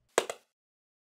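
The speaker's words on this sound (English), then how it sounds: "now you will hear two echoes," A simulated hand clap echoing off two pyramid steps, heard as a pair of sharp, bright bursts a fraction of a second apart that read as one echo, followed by silence and a faint start of a second clap.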